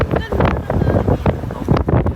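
Gusty wind buffets the microphone in low rumbling bursts on a bridge in Tagbilaran City, Bohol, Philippines, with voices talking faintly underneath.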